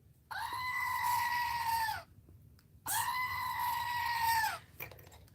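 A goat screams in two long, loud, human-like bleats, each lasting close to two seconds with a short gap between them, and nothing else stands out over the quiet background.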